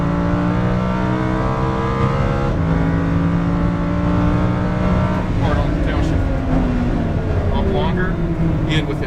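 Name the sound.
race car accelerating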